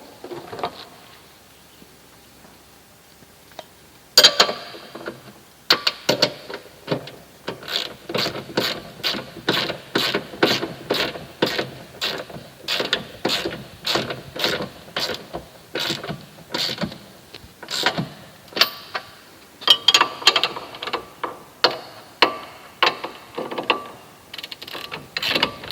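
A ratchet tightens bolts during a UTV shock absorber install: long runs of rapid, close metallic clicks in uneven bursts, with short pauses between strokes, loud and alone without speech.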